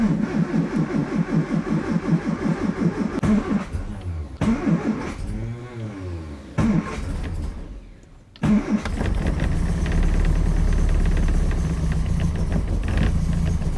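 Classic Mini engine cranking over with rhythmic starter pulses, catching, then settling into a steady loud idle close by, with a brief pause and revving along the way.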